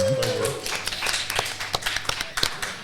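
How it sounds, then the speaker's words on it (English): Round of applause at the end of a podcast episode: a short burst of scattered hand claps rising over the tail of a voice, close and moderately loud. "give me a round of applause"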